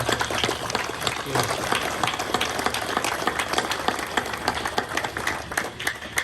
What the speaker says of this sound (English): How about a round of applause for those guys?